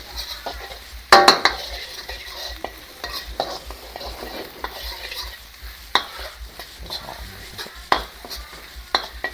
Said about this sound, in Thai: ผัดให้หอม ไฟไม่ต้องแรงนะครับ เดี๋ยวกระเทียไหม้